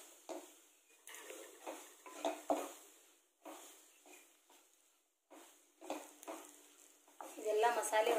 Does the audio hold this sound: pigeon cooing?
no